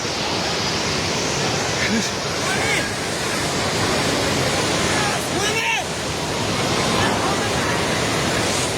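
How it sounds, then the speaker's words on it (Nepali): Floodwater rushes near Trishuli bazaar in Nepal as a steady, loud roar that fills the whole clip, with faint voices underneath. "पानी नजिक आइसकेको छ"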